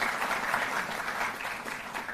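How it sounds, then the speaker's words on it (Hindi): Audience applauding Olympic athletes at a Delhi government honouring ceremony, a steady wash of clapping from a large crowd, moderately faint and even throughout. "एक बार जोरदार तालियों से आइए इन सब का अभिनंदन और स्वागत करें।"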